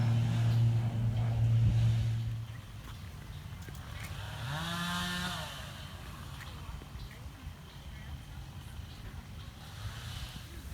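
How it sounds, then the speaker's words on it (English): Chainsaws cut up a wind-damaged tree in the garden of a century-old Finger Lakes mansion. A steady droning buzz opens, then a rising, revving whine comes through fainter, at a distance, against outdoor background noise. "You'll also hear in this video some chainsaws."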